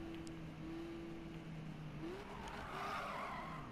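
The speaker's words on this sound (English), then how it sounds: "That was a terrible drift." A car drifting in a Need for Speed game, a steady high tire squeal with a sliding pitch shift partway through over a low engine drone, moderately faint and without talk.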